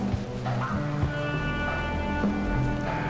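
Rain falls steadily in the video game Shelter. It makes a soft, dense patter, with a low rumble and a few tonal game sounds mixed in.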